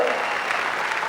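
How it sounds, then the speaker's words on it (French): An audience at a stand-up comedy show in Bercy claps loudly for a short, steady burst of applause. "On va les applaudir très très fort."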